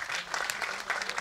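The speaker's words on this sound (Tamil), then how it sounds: "இவங்களுக்கு தான் ஒரு தடவை நீங்கள் கைத்தட்டிடணும்." Audience at a Tamil film trailer and audio launch applauds steadily, a dense wash of clapping hands filling the hall for just over a second without pause.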